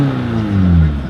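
A first car driven on the road, its engine note rising and shifting in steady low harmonic bands through a short run with no voices.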